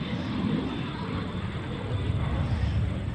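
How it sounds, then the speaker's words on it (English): An Aero L-39 Albatross jet making a smoke-on arcing pass at the New York International Air Show, a steady broadband roar sustained throughout at moderate loudness. "Smoke is on as he makes an arcing pass, puts that left wing down towards the ground so you can look right in the cockpit of the L-39 Albatross."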